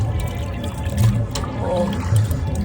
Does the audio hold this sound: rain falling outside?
no